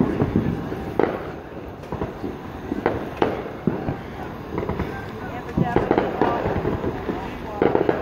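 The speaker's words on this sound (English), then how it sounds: "And this fireworks way over there is still going off." Fireworks burst far off across the area, sounding as a string of distant irregular booms and pops every second or so, with people talking nearby.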